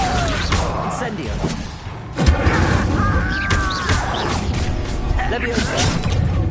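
In Hogwarts Legacy, an Incendio fire spell is cast mid-fight with a loud booming burst and crashing impacts, heard amid continuous combat noise, chatter, and the player speaking.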